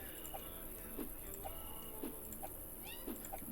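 A pet cat gives a series of short, squeaky meows spaced about a second apart, fairly quiet against a faint background hum.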